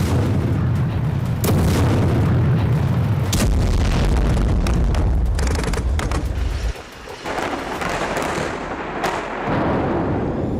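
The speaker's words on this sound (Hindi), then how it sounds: "गाजा युद्ध के 41वें दिन इजरायली सेना की बमबारी ने हमास की कमर तोड़ दी।" Heavy booms and rumbling blasts from Israeli army bombardment in Gaza roll through, loud and sustained with sharp cracks layered over deep low thunder, dropping briefly before more distant impacts return.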